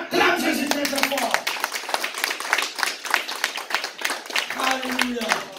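A church congregation claps and cheers for Jesus during a worship service, dense crowd applause with shouts and voices throughout, fairly loud and sustained.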